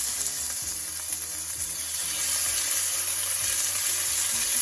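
Pork strips stir-fry in hot oil in a pan, a steady loud sizzle with a dense crackling hiss that grows slightly stronger midway, with no talking.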